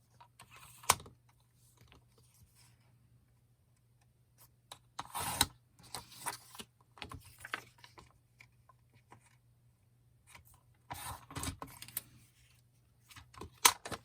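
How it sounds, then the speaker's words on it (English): A paper cutter slices off a long strip of paper while a traveler's notebook flip journal is being made, giving a few sharp close clicks and scraping strokes separated by quiet pauses. "this I can use my paper cutter. And I'm first going to cut off this long piece here"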